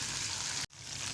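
Hot spiced oil tempering poured into chicken soup, a steady close sizzle and crackle that cuts out abruptly for a moment, then resumes just as densely.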